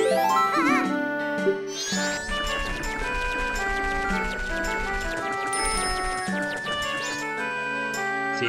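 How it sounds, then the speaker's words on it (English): In The Legend of Zelda: Majora's Mask, cattle bells ring as bright, tinkling, layered bell tones with a steady, music-like rhythm throughout, clear and up front with no talking. "those little, bell sounds,"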